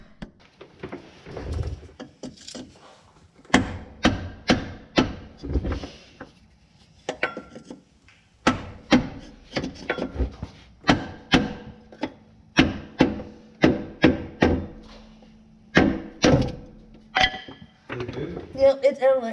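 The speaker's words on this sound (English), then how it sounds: "and hit it with the hammer." A wooden hammer handle struck against the front drive shaft of an S-10 truck, a long series of sharp, ringing metallic knocks in quick uneven bursts, close and loud, with a voice briefly at the end.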